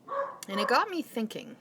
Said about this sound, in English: I'm so sorry my dog is barking.